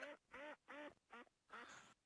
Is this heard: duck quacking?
yes